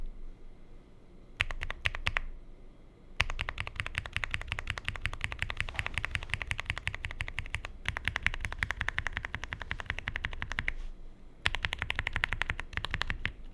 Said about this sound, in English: This ASDF with this Bittersweet switch, and hear the sound.